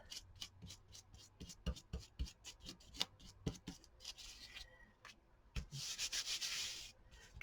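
Crayon rubbing on paper is scrubbed off in quick, irregular scratchy strokes, close and fairly quiet, with a brief pause before a denser burst of rubbing toward the end.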